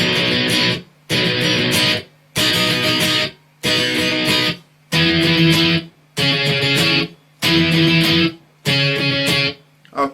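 Distorted electric guitar plays the verse of a song in loud, stop-start chord bursts, each roughly a second long and split by brief silences.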